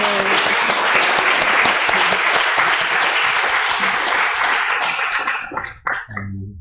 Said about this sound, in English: Big applause to 형사님.